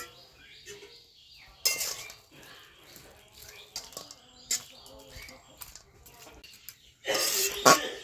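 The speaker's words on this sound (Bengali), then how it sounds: "মাছটা দিয়ে দেই" Fish goes into a pan of cooking spinach, with a loud splash of sizzle near the start and another strong sizzling burst near the end, plus scattered clinks of utensils against the pan in between.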